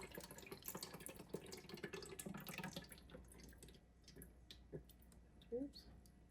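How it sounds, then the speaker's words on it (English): Water trickles and splashes through a small funnel into a 20oz skinny tumbler, a soft close pour that fades into drips and light clicks, with faint talk in the background. "I'm just gonna go ahead and pour the water in."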